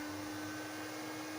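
A MIG 205 welding inverter runs steadily after starting up, giving a constant whirring fan noise with a high electrical whine, loud and unbroken throughout.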